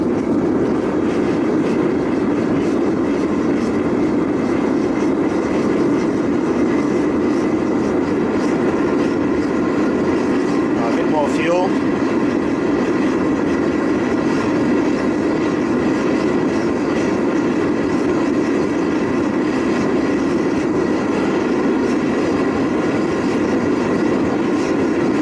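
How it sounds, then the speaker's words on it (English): A diesel-fired foundry furnace burner with its blower ramped up roars loudly and steadily, a dense unbroken rumbling whoosh lasting the full span with no speech. "then we can ramp up the blower."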